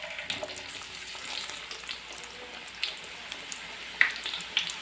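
Onions fry in hot oil with a faint, soft crackling sizzle, scattered small pops and light stirring clicks close by.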